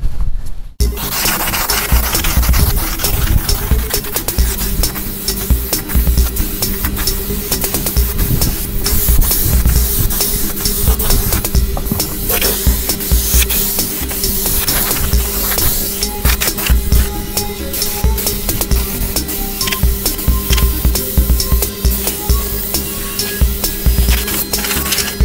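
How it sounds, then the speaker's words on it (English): A spray gun continuously coating a replacement floor pan on a VW Beetle, a loud steady hiss lasting the full twenty-five seconds with a sustained compressor hum beneath and faint clicks, close up, no talking. "I'm going to continue painting this."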